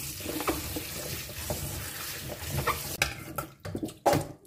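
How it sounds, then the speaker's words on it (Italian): Grapes being rinsed in a sink under a running tap while making mosto cotto, with splashing water, stirring and the clink of a bowl or pot in irregular bursts close by. "Sciacquo di nuovo velocemente gli acini."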